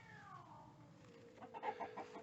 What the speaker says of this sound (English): now the cats are trying to moan and groan at each other